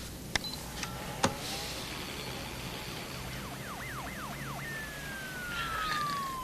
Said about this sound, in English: Police siren. Pretty obvious.